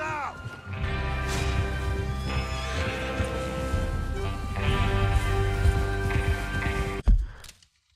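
Horses neigh and whinny over a busy Red Dead Redemption 2 game soundtrack, hooves clopping throughout, ending with a sudden loud burst that quickly fades.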